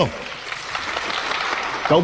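Congressmen applauding in a legislative chamber, a steady wash of many hands clapping together at moderate distance, running throughout without a break.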